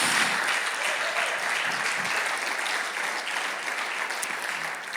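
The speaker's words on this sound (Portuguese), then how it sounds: "Aplauda a palavra de Deus desta manhã." A church congregation applauds steadily and evenly for the whole stretch, a dense wash of hand claps with no pause and only a slight fade toward the end.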